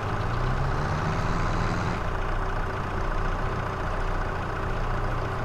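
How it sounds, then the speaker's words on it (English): A tractor engine in Farming Simulator 22 drones steadily at idle, a constant low rumble with a brief rising whine early on, with no talk over it. "See if you can drive your tractor backwards."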